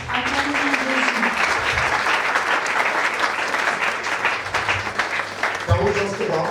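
A church congregation bursts into sustained, loud applause to acclaim Jesus at the close of a prayer, the clapping dense and continuous, with some voices mixed into the crowd noise.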